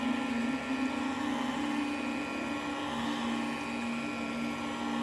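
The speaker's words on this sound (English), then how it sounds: "now I'm going to hit it again with the heat gun" A heat gun blows steadily over a freshly painted resin model horse, a constant close whirring hum with an even airy hiss and no pauses.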